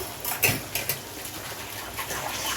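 A spoon scrapes and clinks against a pot while salt is stirred into broad beans, a few quick metallic knocks close up and no voices.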